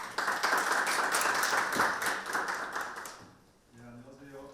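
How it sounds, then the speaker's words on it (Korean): An audience at a parliamentary health insurance forum gives a burst of hearty applause lasting about three seconds, then it fades and a voice begins speaking. "힘찬 박수 부탁드립니다."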